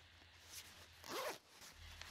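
A zipper pulled along the underside of a durable nylon dust collector bag on a wall-mounted dust collection unit, one quick close rasping zip with softer handling rustle around it.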